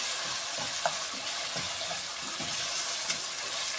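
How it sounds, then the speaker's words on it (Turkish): Pepper paste sautéing in a pan for a purslane dish, a soft continuous hiss of sizzling oil with faint occasional stirring taps, fairly quiet and steady over a few seconds, no voices. "Bir buçuk kaşık diyelim biber salçası. Bunu da soteliyorum."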